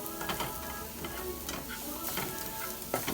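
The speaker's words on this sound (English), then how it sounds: "We're going to add that to the mix. And we're going to let this saute for, I don't know, 30 seconds to a minute." Minced garlic sautéing in a pan, a constant close sizzle broken by repeated scraping strokes of a spoon or spatula stirring through it, no talking.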